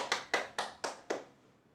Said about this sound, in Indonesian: Beri tepuk tangan untuk Syifa